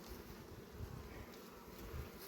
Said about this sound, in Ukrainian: Ну, бджол є.